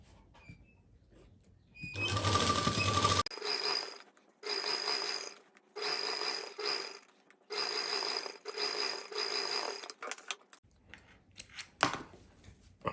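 Sewing machine stitching lace onto plain fabric on a printed shirt, several bursts of fast clattering stitching separated by short pauses, close and fairly loud, with a brief mechanical rattle near the end.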